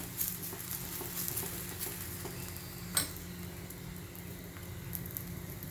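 Paratha cooks in ghee on a pan with a faint, steady sizzle and soft ticking pops, one brief louder clack near the middle, and no voices.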